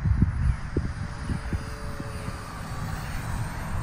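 An FMS F-35 64mm electric ducted fan model jet on a 4-cell battery takes off, a steady high whooshing fan whine heard outdoors with wind and a few low thumps, no talking.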